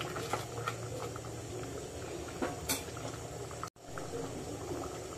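Crab curry (kalvan) made with chimbori crabs and chopped coriander simmers in a pan, giving a steady soft bubbling hiss with small pops and clinks throughout, close and moderately quiet.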